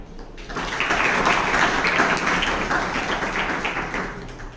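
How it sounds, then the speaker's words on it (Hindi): An audience at an India Post Har Ghar Tiranga celebration applauds an invited guest, a dense, steady wash of clapping that holds for several seconds. "एक बार इनके नाम की तालियां।"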